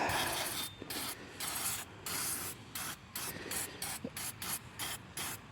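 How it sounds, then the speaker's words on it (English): Degreaser sprayed in a series of short, hissing bursts to flush grease and dirt from a Ford Falcon AU rear wheel bearing area during a repair, close and fairly steady with brief gaps between sprays. "So let's take a bit of degreaser."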